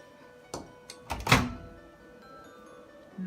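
The door of a new microwave oven clicks and thunks shut, a few close handling knocks followed by a solid closing thud in a quiet room.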